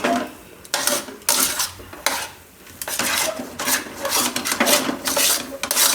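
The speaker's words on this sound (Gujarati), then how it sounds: "આને શેકતા રહેવાનું, વચ્ચે વચ્ચે હલાવતા રહેવાનું, મીડિયમ ગેસ રાખી." Chana dal roasting in a pan on medium heat is stirred with a spoon, giving repeated scraping, rasping strokes in uneven bursts with short pauses, close and fairly loud with no talking.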